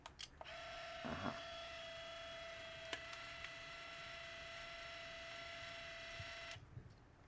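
A film camera fires a quiet shutter click, then a loud motorized film ejection whirs steadily for about six seconds before stopping with a few soft clicks, heard close up in a quiet room.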